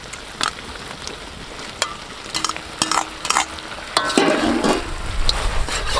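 Fried beef pieces stirred through tomato sauce in a hot pan for restaurant-style chilli beef, with steady loud sizzling and clattering spatula strokes that grow busier toward the end.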